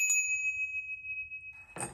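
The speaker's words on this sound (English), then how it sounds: "This one has a total different ring." A small brass bell is struck once and then left to ring, giving a long, steady, pure tone that slowly fades, before a second bright clanging burst at the end. No one speaks over it.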